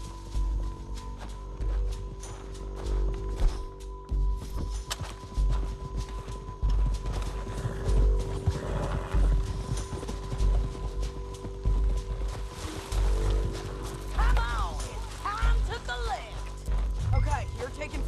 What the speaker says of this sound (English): We need our horses.